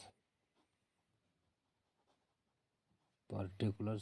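Faint, sparse scratches of writing by hand on an exam-style accounts sheet, quiet and intermittent in a still room, followed by a person starting to talk.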